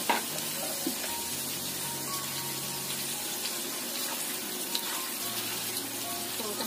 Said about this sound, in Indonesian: Masukkan sosisnya, kita goreng sebentar